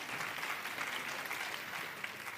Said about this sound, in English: Well, that was a round of applause, right?